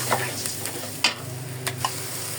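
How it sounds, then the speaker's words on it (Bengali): Onion, chilli, ginger, garlic, turmeric and chilli powder stir-fried together in a pan for a boal fish curry: steady close sizzle with scraping spatula strokes and a few sharper clinks, no talking. "এখন পেঁয়াজ মরিচের সাথে আদা রসুন দিয়ে হলুদ মরিচের গুঁড়ো একসাথে এখন"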